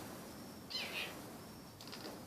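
A couple of faint, high bird calls chirp against a quiet outdoor background, one near the start and a brief one near the end.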